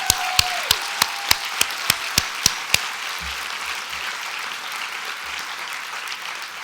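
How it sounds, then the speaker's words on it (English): Applause from a commencement audience of journalism MA graduates at the CUNY Graduate Center: a few loud, separate claps near the microphone over broad clapping that carries on and slowly thins to a soft patter. "Give yourselves a huge round of applause."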